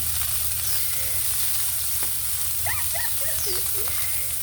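Oil sizzles steadily in a pan while malunggay and eggplant fry, a close, constant hiss with faint scraping stirs and clinks on top.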